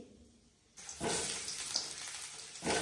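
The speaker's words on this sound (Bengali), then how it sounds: "হ্যাঁ, আলুটা ভেজে নিই" Potatoes fry in hot oil, a steady hissing sizzle that starts abruptly, holds fairly loud and swells again at the end.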